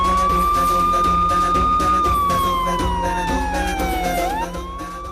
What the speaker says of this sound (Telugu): అంబులెన్స్ వచ్చినట్టుందే